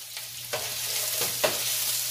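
Two cloves of garlic frying in a drop of oil in a pan over high heat, a soft steady sizzle broken by a few close scraping stirs.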